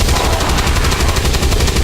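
Rapid automatic gunfire from XCOM 2: War of the Chosen, a loud, steady burst of evenly spaced shots lasting under two seconds, heard alone without speech.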